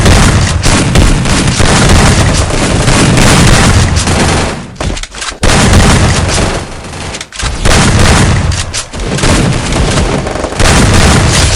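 Video game gunfire and explosions boom and crackle almost continuously, loud and dense, with bursts of rapid shots and heavy blasts and only brief lulls between volleys.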